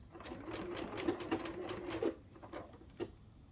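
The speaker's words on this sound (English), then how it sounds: "go to the sewing machine and sew all your folded edges" Close up, a sewing machine sews the folded edges of a reusable fabric bag in short, uneven bursts of rapid stitching, quiet and alone.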